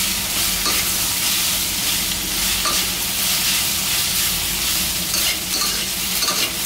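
Bamboo shoots and egg stir-fried in a hot pan, a loud continuous sizzle with steady scraping of the spatula, close and alone with no talk.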